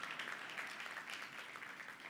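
An audience claps in a steady, dense patter of many hands, faint and slightly distant, with no voices over it.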